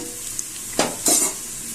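Onions frying in a pan for chicken biryani, a low steady sizzle broken by a couple of brief stirring scrapes and a loud hiss burst near the middle, close by with no talk.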